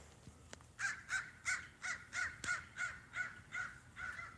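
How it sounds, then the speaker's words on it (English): A crow caws repeatedly in a steady series of about ten harsh calls, fairly close and clear, with a couple of faint clicks before the calls begin. "A lot of crows out today."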